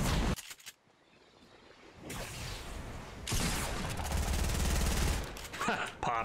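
Rapid video game gunfire in loud bursts and rattling automatic volleys, with a brief lull in between, mixed with excited voices.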